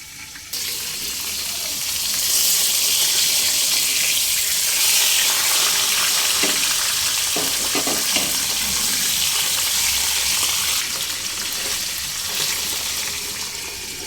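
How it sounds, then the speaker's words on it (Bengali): Fish heads fry in hot oil over a medium flame, giving a steady, loud, dense sizzle throughout with occasional soft stirring clatter and no talking. "মাছের মাথাগুলো সব দিয়ে দেব মিডিয়াম ফ্লেমে ঢাকা দিয়ে দিয়ে মাছের মাথাটাকে খুব ভালোভাবে ভেজে নিতে হবে"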